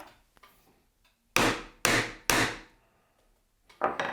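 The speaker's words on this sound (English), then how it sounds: "I'm just removing the waste so that there's nothing for my bevel to ride up against and push the chisel back." A chisel knocks waste wood from a dovetail joint: three sharp, loud mallet-on-chisel strikes in quick succession, then a pause and two more blows, with quiet scraping between.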